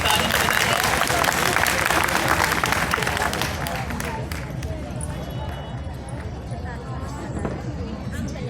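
Dense applause from a seated audience at a Republic Day school-style program, a steady broadband clatter of many hands that starts loud and gradually thins and softens over several seconds, with crowd murmur underneath.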